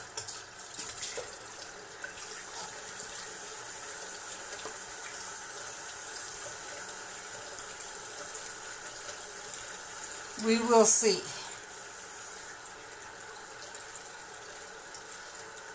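A kitchen tap runs as a faint, steady wash of water behind a person talking, with a brief louder splash or clatter near the middle.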